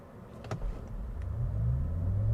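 A heavy 2023 Cadillac Lyriq electric SUV pulling away hard from a stop, with a low hum and road rumble rising steadily over a couple of seconds and a few brief clunks near the start.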